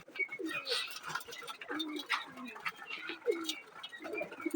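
Several pigeons coo in overlapping low phrases close by, mixed with chirps and scattered rustling in a busy coop.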